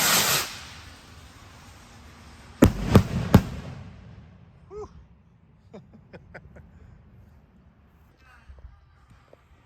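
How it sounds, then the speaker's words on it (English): Consumer firework rockets go off outdoors, starting with a hissing whoosh of a launch, then three sharp cracks in quick succession and later scattered faint pops and crackles in the distance. "let's shoot some rockets"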